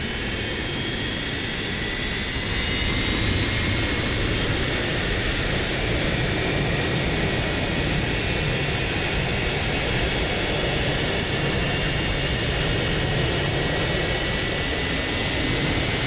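Airliner jet engine on an Iberia MD-88 in Microsoft Flight Simulator 2020 spooling up during start, a loud, steady, broadband roar with a rising whine layered on top, continuous throughout.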